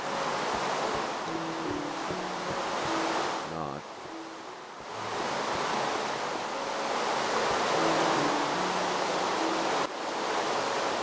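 Ocean surf from the Minecraft video game, played on PS3, washes steadily as broadband noise, briefly dipping before resuming, with someone talking over it throughout.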